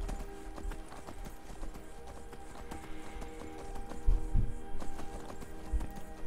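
Horse hooves in the Skyrim video game clip-clop steadily throughout, fairly close, with a heavier thud or two near the middle and no talk over them.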